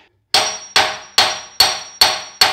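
Six sharp metallic hand sledge strikes on a seized engine at a steady rhythm, each a loud ringing clang that decays before the next blow lands.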